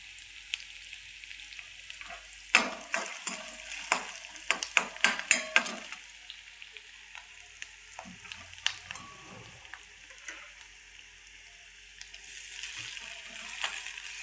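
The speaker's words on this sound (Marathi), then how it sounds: "चांगला कांदा भाजून घ्यायचा. स्लो ठेवायचं, जसं जास्त फास्ट नाही." Chopped onion sizzles slowly in hot oil in a pan, a steady close frying hiss throughout, with a cluster of sharp utensil scrapes and taps early on as it is stirred.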